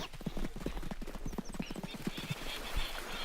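Horse hooves gallop in Red Dead Redemption 2, a fast, dense run of clip-clop beats with a brief whinny mixed in, loud and close, the rhythm easing off toward the end.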